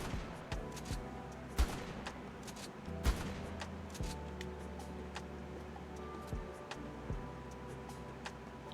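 A modded firearm from a weapons mod for ARK: Survival Evolved fires several punchy shots spaced a second or more apart, with lighter clicks and mechanical ticks between them, and no voice.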